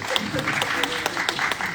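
Audience applause in a talk-show conversation setting, brisk scattered clapping mixed with voices talking over it, brief and fairly close.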